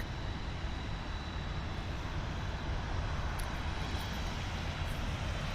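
A WestJet airliner taking off at Toronto Pearson airport, a steady broad roar of engine noise that holds constant throughout, heard from a distance without talk.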